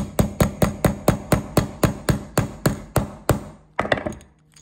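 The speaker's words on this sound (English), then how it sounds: "I'm gonna hammer the end of it" A hammer strikes the axle into a pinewood derby car wheel about a dozen times in a steady, sharp rhythm, close and loud, followed by a few quicker knocks and then quiet.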